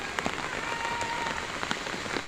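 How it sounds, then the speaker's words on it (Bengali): Light rain patters steadily on a surface, with scattered louder drips popping through a soft, even hiss. "হালকা হালকা বৃষ্টি পড়ছে কিন্তু পড়েই যাচ্ছে"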